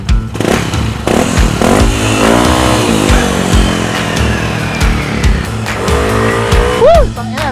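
A Yamaha Aerox scooter with an upgraded 195cc engine revs hard and loud, climbing and falling in repeated surges and whining at the top.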